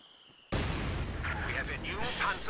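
A friendly fire grenade in a video game bursts suddenly after a quiet opening, with a loud, sustained blast rumble and crackling debris that continue to the end, as a voice talks over it.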